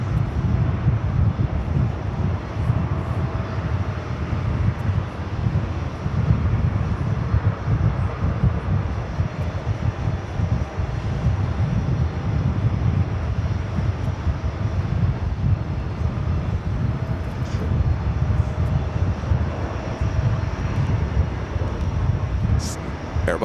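An Airbus A220-300 taking off at JFK, a sustained, rumbling engine roar with a gusty, wind-buffeted texture that stays loud and even throughout, with no one talking over it.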